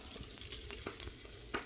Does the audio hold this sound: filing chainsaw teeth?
no